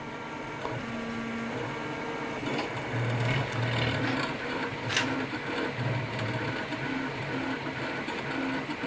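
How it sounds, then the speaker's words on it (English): A Big Bad Robin 3D printer printing at a very small layer height, its stepper motors whirring and buzzing in short shifting tones at moderate, steady level, no voices. "Yeah, I'm actually printing with a ridiculously small layer height"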